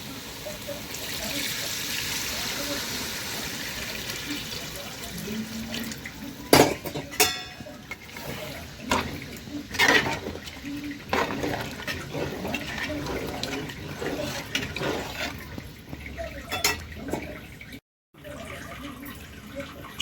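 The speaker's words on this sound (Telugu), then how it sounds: "వాటర్ అనేది ఎక్కువే పోసుకోవాలండి." Water poured generously into a pot of spiced goat head curry, a splashing fill mixed with clanks of pots and utensils nearby.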